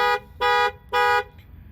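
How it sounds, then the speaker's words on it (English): A car's factory alarm honks in three loud, evenly spaced blasts, each lasting about a quarter second, sounding close by with quiet gaps in between. "So now they both going off. That's the factory alarm."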